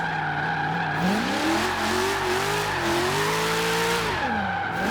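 A 1992 Ford Falcon GT engine in Forza Horizon 3, loud and close, revving hard with rising and falling pitch through the gears, and tires squealing in a sustained drift.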